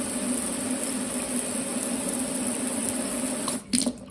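Water sprays steadily from a kitchen faucet with a constant hissing rush, then cuts off briefly near the end with a few splashes.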